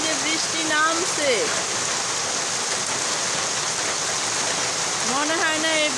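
Heavy rain pours steadily outside as a dense, constant hiss that fills the whole clip, with a few birds chirping faintly through it near the start and end.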